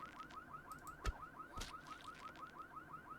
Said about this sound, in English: Oh, we triggered a car alarm.